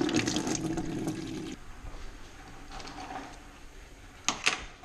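Coolant drains from a Mazdaspeed Miata NB radiator into a bucket, a steady trickling, splashing flow that runs loud at first, then continues as a softer liquid wash, with a couple of brief metallic clinks near the end.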